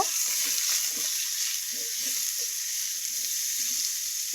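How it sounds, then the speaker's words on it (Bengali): Washed, cut potatoes fry in a wok for a vegetarian bitter gourd dish, producing a constant close sizzle. Soft low stirring or scraping noises sound underneath, with no voices. "আলুগুলোকেও কিন্তু একটু লাল লাল করে ভেজে নেব"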